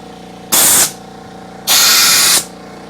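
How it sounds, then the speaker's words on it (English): Two sharp hissing bursts of compressed air, short then longer, blast into a side-by-side tire with its valve core removed as it is seated on a manual tire changer, loud and close over a low background hum. "All we want to do is give a little burst of air."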